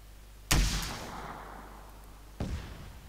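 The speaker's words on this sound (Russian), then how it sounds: "я сейчас по сушке выстрелю из ракетницы" A rocket launcher fires at a jet in the video game Arma 3, two sharp booming blasts about two seconds apart, each followed by a rumbling decaying tail, loud and close.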